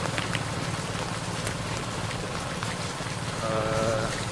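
Steady sudden rain patters across a surface in Chankanai, Jaffna, a dense even hiss throughout, with a faint animal bleat rising near the end.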